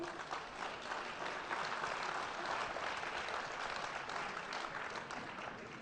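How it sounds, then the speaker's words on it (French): Sustained applause from a large audience at a science talk, a dense, even wash of clapping that holds steady throughout with no voices standing out. "Francis Rocard, sous vos applaudissements, bien évidemment."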